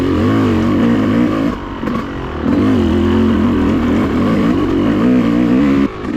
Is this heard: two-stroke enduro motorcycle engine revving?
yes